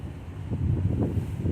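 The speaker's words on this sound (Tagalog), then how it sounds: "Lakas ng hangin guys" Strong wind buffets the microphone in low, rumbling gusts that swell and roar briefly.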